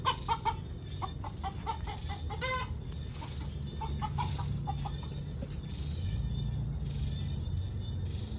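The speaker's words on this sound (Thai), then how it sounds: "ไล่จิกน้องเมย์ครับ" Backyard chickens cluck in short, quick bursts as a rooster chases a hen, the sharp calls close and clustered at first and again midway, over a low outdoor hum.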